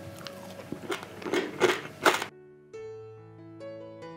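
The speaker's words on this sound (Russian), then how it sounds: "Шкурка хрустит" Crunchy skin of a grilled pork belly roll, cooked on a charcoal grill, bitten and chewed close up in a few sharp crackling bites, followed by quieter sustained tones.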